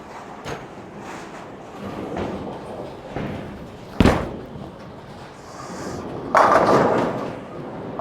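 Bowling lane shot with a Storm Phaze 4 pearl ball: a sharp thud at release, a rolling rumble down the lane, then a louder crash of pins near the end, amid alley ambience without speech.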